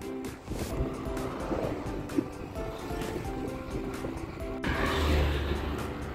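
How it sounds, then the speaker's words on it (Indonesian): The Serayu River flows past the Serayu barrage on a foggy morning in Banyumas, a steady broadband rush of water mixed with wind, swelling louder near the end. "ini kita sudah sampai di pinggir Sungai Serayu, Bendungan Gerak Serayu itu depan sana tuh"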